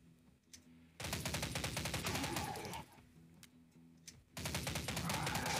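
M4 rifle fire in a zombie shooting video game: two long, rapid automatic bursts, loud and close, separated by a short lull of quieter background.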